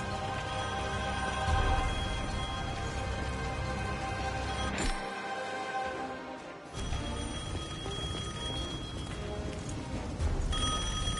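Telephone ringing in the video game Devil May Cry 5, a repeated electronic ring over loud, dense game music and ambience.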